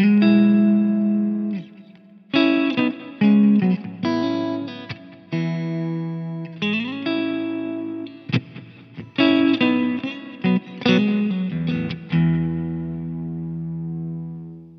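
Clean electric guitar played through a Flattley ACE boost pedal, performing a song: clear, close chords and melodic phrases with natural sustain, heard alone with no talking.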